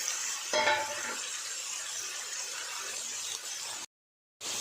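Marinated chicken added to a pan of fried carrots, capsicum and beans, a steady hiss of frying with a louder burst as it goes in, light stirring, then a brief cut to silence.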